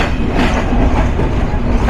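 The Nilsagar Express runs at speed, a loud close-up roar of rolling wheels and carriages with a steady rumble and faint rhythmic clatter throughout, no speech.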